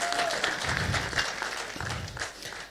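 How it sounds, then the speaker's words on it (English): Audience applause at a 2018 Zimbabwe election political debate, steady dense clapping that fills the whole stretch at moderate loudness, with faint crowd noise mixed in. "Can we give the debaters another round of applause?"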